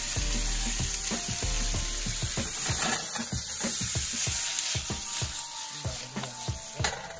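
Vegetables softening in a hot pan give a steady close sizzle, with scattered sharp taps and scrapes of a utensil stirring through it and no talking.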